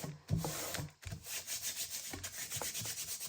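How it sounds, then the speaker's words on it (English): Hands rub and burnish a paper bag, making close, soft rhythmic swishing strokes in quick succession with a brief pause near the start. "And I just burnish it a little bit with my hands"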